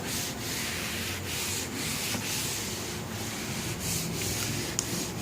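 A bare hand rubs across the back side of a plastic car bumper, checking for damage. It makes a close, steady dry rasp with repeated strokes and no talking.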